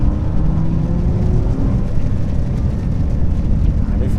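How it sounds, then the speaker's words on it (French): An Audi R8 V10+ engine in a wet-weather test drive drones loudly and steadily from inside the car, a dense low roar with road noise and no clear rise in pitch. "Puis on va pouvoir se faire un petit peu plaisir et entendre un peu le V10."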